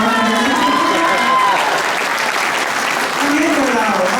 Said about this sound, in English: You guys clap a little bit louder.